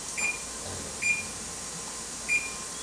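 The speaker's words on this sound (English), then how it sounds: "That's the buzzer." A kitchen timer buzzer goes off three times in short, evenly spaced beeps at moderate volume over a steady background hum while raspberry jam is canned at home.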